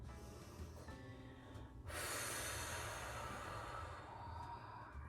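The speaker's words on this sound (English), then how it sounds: "take a deep inhale and an exhale." Deep breathing in a restorative yoga session: a slow inhale builds into a loud, close, airy exhale that lasts for several seconds, with no talking.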